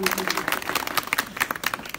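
Applause from a village crowd at a political speech, dense overlapping claps at steady volume throughout, with voices mixed in.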